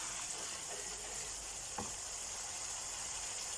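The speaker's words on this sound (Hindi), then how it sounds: "ये हमारा फ्राई हो गया मसाला।" Masala spices frying in a pan for a bhindi and onion dish, giving a steady, soft, close sizzle with no talk over it.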